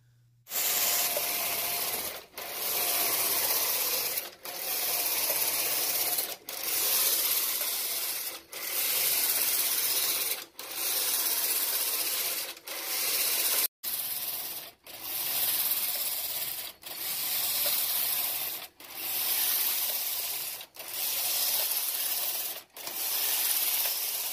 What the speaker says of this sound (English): I'll put in a video right here of the drive band in action, or the drive motor in action